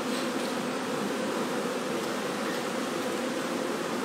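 Dense, steady buzzing of many honeybees close by at an open hive during a colony inspection, a continuous droning hum that holds at an even level with no pauses or talking.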